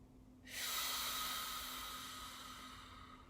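A single long, breathy inhale, quiet and close, rising suddenly after a short silence and slowly fading over a few seconds, with no talking.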